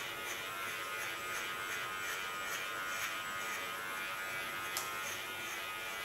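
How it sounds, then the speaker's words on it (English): Electric hair clipper running steadily through strong hair during an asymmetric bob with under-shave, a continuous high buzzing hum held close and even throughout with no talking. "you can hear how wonderful strong my hair is, because you can hear it on the clipper blades"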